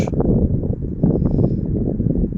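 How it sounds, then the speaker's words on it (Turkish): Strong wind buffets the microphone in a village garden, a steady low rumbling roar with gusty swells and no voices. "Rüzgar esiyor. Buranın rüzgarı meşhur"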